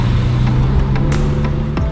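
A BMW E46 M3 coupe pulls up close by, its engine a loud, steady low drone with a few brief higher sweeps over it.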